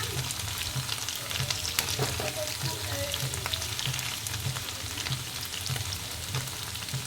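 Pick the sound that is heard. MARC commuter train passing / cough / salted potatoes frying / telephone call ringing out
salted potatoes frying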